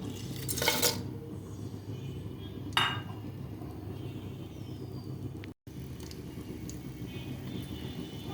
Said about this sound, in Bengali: একটা প্যানে আমি সয়াবিন তেল গরম করে নিয়েছি দিয়ে দিচ্ছি গোটা গরম মশলা